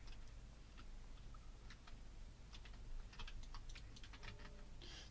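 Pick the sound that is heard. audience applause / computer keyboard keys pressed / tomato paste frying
computer keyboard keys pressed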